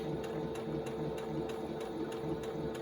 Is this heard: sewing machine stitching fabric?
yes